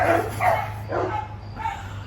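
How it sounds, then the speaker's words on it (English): Several dogs bark and yip in a suburban setting, with roughly four close, loud bursts spaced across a couple of seconds over a steady low hum. "Now the dogs are going to start to sing."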